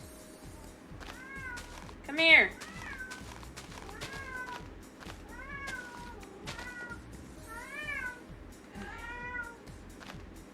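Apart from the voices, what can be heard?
cat meowing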